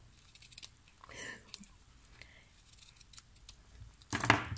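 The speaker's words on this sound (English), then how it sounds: "I am going to cut two pieces like that and stick them on." Scissors snipping ribbon for a handmade card, a few quiet close cuts with a sharper, louder snip near the end.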